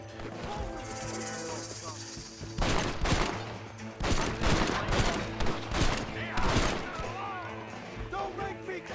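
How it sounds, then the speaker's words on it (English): Enemy gunfire in the Western video game Red Dead Redemption: repeated distant rifle and pistol shots crack in clustered volleys over a steady background score, with bursts of fire coming close together. "Who is shooting at me now?"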